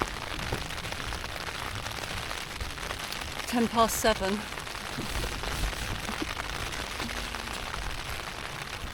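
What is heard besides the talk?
rain on a Hilleberg Soulo tent at the beach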